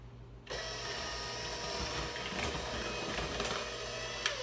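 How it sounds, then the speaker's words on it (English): A handheld electric mixer whisks eggs, sugar and oil for a lemon loaf cake batter, switching on after a brief quiet moment into a soft, steady mechanical whir that runs to the end. "I'm just going to whisk this with my handheld electric mixer for about 30 seconds."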